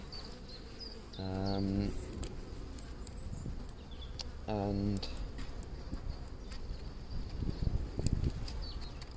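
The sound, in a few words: honey bees buzzing during a hive inspection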